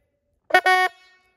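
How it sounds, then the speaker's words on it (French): A hunting horn sounds once during hound training: a short tonal blast and then a longer sustained note, clear and close, standing alone against silence. "quand il va associer le bruit de la corne à moi"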